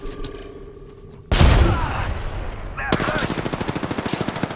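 Video game gunfire: a sudden loud burst of shots, then a rapid, evenly spaced automatic volley of close machine-gun fire.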